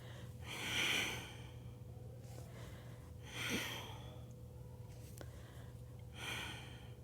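Slow exhales through the nose during a yoga core exercise, three soft, airy breaths spaced a few seconds apart, close and quiet over a low background hum.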